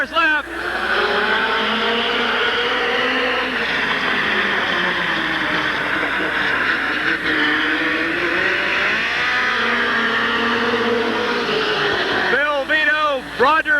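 Stock cars race around Midvale Speedway in 1986, engines roaring loudly and continuously with rising and falling pitch as they pass, while an announcer talks over the noise throughout.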